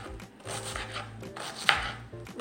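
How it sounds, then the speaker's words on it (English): A knife dices a red onion on a cutting board, the blade knocking down in a steady run of close, crisp chops. "We're gonna dice up our onion"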